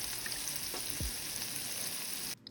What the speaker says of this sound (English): You should hear a nice sizzling sound, kind of like this.